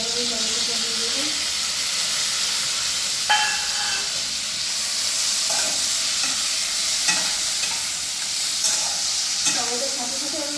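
Tomato stir-fries in a hot pan for a mixed vegetable curry with potato, eggplant and carrot, giving a continuous steamy hiss and sizzle broken by scattered clinks of stirring.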